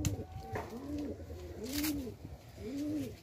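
Madrasi pigeons coo in Bagnan, three rolling, rising-and-falling coos repeating at a steady pace, close and clear over a faint background.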